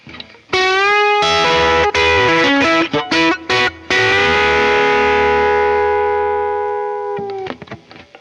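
Telecaster clone electric guitar played through an amp with a harsh, bright, ice-picky tone. Several loud plucked notes and chords ring out, then one long note sustains and decays before a few quieter picks at the end.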